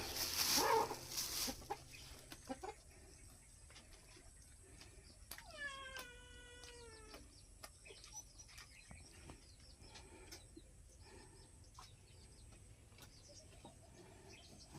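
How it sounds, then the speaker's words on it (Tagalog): A single drawn-out cat meow stands out amid quiet background ticks and rustles, preceded by a brief burst of louder noise. "Yan yung pusa niya."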